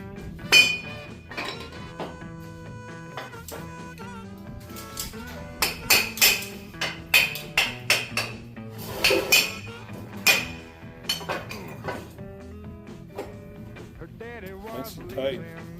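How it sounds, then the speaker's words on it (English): Hammering on a house under construction in the Philippines, heard as a run of sharp metallic clinks and taps in irregular bursts, close and fairly loud, with people talking throughout. "Gonna need a bigger hammer."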